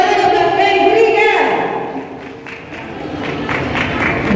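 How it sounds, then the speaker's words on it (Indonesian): Applause and crowd noise at a Minang wedding reception, a dense clapping wash that dips briefly then rises again, mixed with voices. "Ya tepuk tangan yang mulia"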